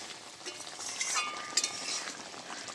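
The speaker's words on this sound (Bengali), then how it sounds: "এবারে নেড়ে চেড়ে" A vegetarian fish curry is stirred in a pot, giving soft scraping and light clinks against a low simmering sizzle, quiet and close with no talk.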